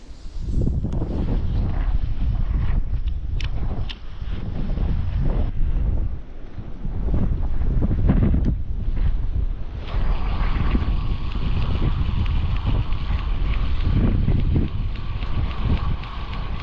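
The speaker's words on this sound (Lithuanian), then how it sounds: "Vėjas tai žiaurus." Strong wind buffets the microphone at a riverside fishing spot during float-rod fishing for chub, a steady loud rumbling roar that lasts throughout with no voices.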